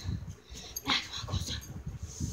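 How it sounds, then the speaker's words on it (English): A dog whimpers and yips softly at close range, with a brief higher whine burst near the middle over low rustling handling noise indoors. "My dog."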